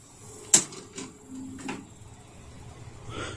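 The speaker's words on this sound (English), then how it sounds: "that's the head cleaner. It's ejecting." A Toshiba M674 Hi-Fi VCR ejecting a head cleaner tape: a sharp mechanical clunk followed by a few fainter clicks and a low whirring motor hum, close and quiet in a still room.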